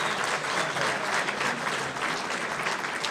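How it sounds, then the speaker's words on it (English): An audience claps steadily at a civic club luncheon, dense even applause holding at a constant level for a few seconds with no voices over it. "Give him a round of applause."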